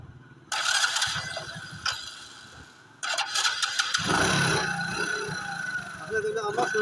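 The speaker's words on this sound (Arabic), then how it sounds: "المهم اول حاجه غدير مارش الموتور ديالك." A car engine is cranked and started for a carburetor idle adjustment, with a mechanical crank sound followed by a steady running idle close by, while someone talks over it.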